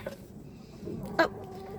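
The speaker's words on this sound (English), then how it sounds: "You have to be willing to fight a chicken." A chicken in a henhouse during egg collection, giving a brief faint cluck or squawk around the middle of the clip over low background rumble, with no speech.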